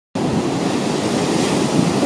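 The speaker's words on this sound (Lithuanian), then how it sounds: "Dabar po truputį jau prasideda potvynis, jūra grįžta." Ocean surf along a shore as the tide starts returning, a steady close wash of breaking waves mixed with wind buffeting, starting abruptly and holding loud for a couple of seconds.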